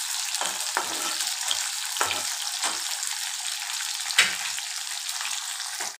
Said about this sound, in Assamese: পিঁয়াজখিনি ৰঙচুৱা হোৱালৈকে মই ধুনীয়াকৈ ভাজি ল'ম।